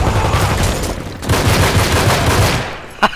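Sustained automatic gunfire from the online multiplayer shooter Medal of Honor, dense rapid bursts rattling for about two and a half seconds, then a short lull and a couple of sharp louder shots at the end.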